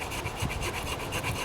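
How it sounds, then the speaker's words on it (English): A tiny 3-inch Browning camp saw blade cuts through a small tree limb in steady, close back-and-forth rasping strokes of wood being sawn, heard alone. "But I'm sawing right through this little limb."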